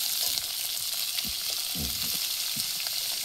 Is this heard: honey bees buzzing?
no